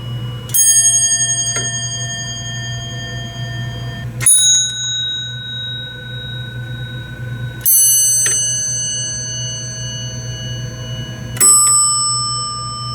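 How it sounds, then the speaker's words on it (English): Four separate mechanical elevator bells, each button-controlled, ring one after another, each a bright metallic strike with a long ringing decay, spaced a few seconds apart over a low hum. "So this here are 5 of my mechanical bells, and each of them is controlled by a button."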